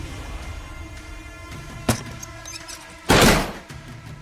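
A door slams shut indoors: a sharp knock comes first, then a louder, heavier bang with a brief rattling tail over faint room noise.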